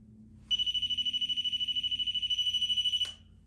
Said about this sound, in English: So the device that I have in my hand is called a REM pod.